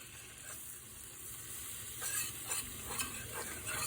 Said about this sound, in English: 4 tablespoons of flour and mix with my whisk.